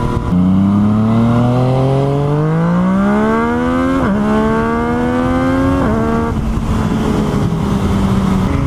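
A Kawasaki Ninja 500 motorcycle rides past on a road, its engine note rising steadily in pitch as it accelerates, dipping briefly at a gear change, then holding a loud, close, continuous drone throughout.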